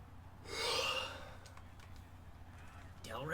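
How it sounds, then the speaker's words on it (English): A person yawning: one long breathy inhale that swells and fades over about half a second, close and soft, followed by quiet background and a brief voiced sound at the end. "Stop yawning, man."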